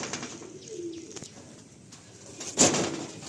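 Madrasi pigeons cooing, soft low coos heard close by with a brief louder burst near the end, faint background rustle and no speech.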